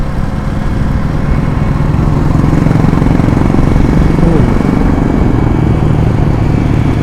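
A motorcycle rides along a road with trucks, bikes and cars beside it near an old bridge, on a route from Udaipur, Rajasthan toward Gujarat. Its engine makes a loud, close, continuous drone with road rumble throughout, and nobody speaks.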